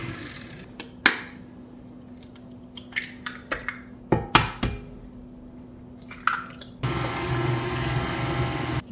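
Pumpkin bread batter with pumpkin and eggs in a bowl: a few light clinks and taps, then an electric mixer starts up and whirs steadily and loudly to the end.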